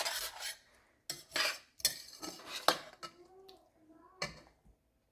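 A utensil scrapes and clinks against a bowl in several short bursts while garlic is mixed into cranberry salsa, with quiet talk briefly in between.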